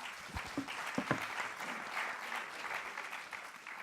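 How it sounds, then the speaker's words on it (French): An audience at a round-table discussion applauds, a steady wash of many hands clapping at moderate distance, holding evenly for several seconds before easing slightly. "On peut vous applaudir pour cette belle initiative."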